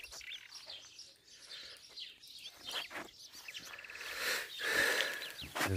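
Birds chirp and tweet in quick, scattered calls in a village garden, some faint and distant, others closer and brighter, over a quiet outdoor background.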